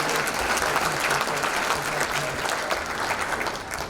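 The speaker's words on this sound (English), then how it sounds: "big round of applause for my friend and our community friend, Mike Wizdala." A banquet audience at a county sports hall of fame induction dinner applauds steadily for about four seconds, a dense, sustained wash of clapping filling the room at even loudness.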